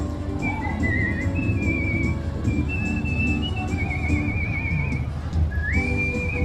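Melodic whistling at the 2011 Monrovia Holiday Parade, sustained and sliding notes with trills, over a busy crowd and background music, steady loudness throughout.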